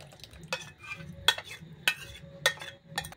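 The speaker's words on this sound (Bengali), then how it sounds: "ভালো করে জলটার সঙ্গে মিশিয়ে নিচ্ছি" Puffed rice stirred with a spoon in a mixing bowl with a little water: light rustling crunches with sharp spoon clinks against the bowl at irregular intervals, close and fairly quiet.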